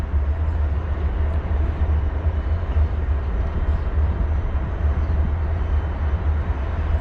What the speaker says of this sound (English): there's another private train making its way in here very slowly